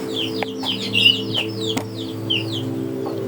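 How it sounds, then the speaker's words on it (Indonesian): Chickens near a lone house cluck and chirp in short scattered calls over a steady low hum, with a few faint clicks. "Dan ada ayam di sana."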